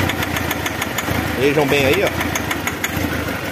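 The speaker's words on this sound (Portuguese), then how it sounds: "Isso pode ser o pistão pegando na válvula aí" A Nissan Frontier engine idles out of timing, with a rough, irregular rhythmic ticking and knocking from pistons hitting valves, close by, while someone speaks briefly over it.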